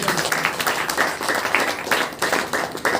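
A church congregation at a Saturday worship meeting claps hands together in a steady, fairly loud rhythm of repeated bursts, with no speech over it.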